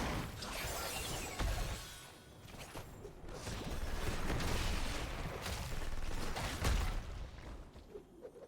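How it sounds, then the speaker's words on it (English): A grenade blast and shattering bursts sound amid a busy Heroes of the Storm team fight, with several loud explosive hits and whooshes over continuous game noise. "Gets bumped by the grenade once again"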